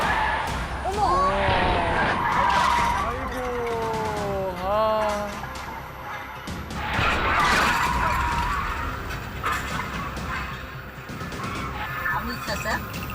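A car runs a red light at a curve, drifts and crashes, heard as tire squeals and an impact among traffic noise, with people talking over it throughout.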